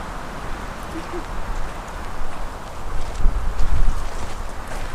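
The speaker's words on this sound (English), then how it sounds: "Hear the wind in the casuarinas too." Wind rushes through casuarina trees near Bremer Bay in a steady, breathy roar that swells and fades, louder toward the end, heard close with no voices.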